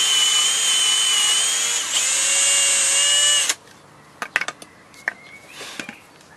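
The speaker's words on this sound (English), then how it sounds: "So first you have to drill a hole right here." A handheld power drill bores a hole in wood while building a DIY electric longboard, a loud, steady whine that dips briefly before cutting off. A few light metallic clinks and knocks follow in the quiet.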